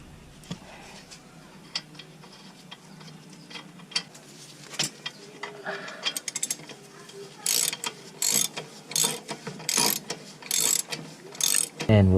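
Torque wrench tightening a greased castle nut on a 1988-1991 fourth-generation Honda Civic axle, with quiet ratcheting clicks building into a burst of sharp, close clicks near the end.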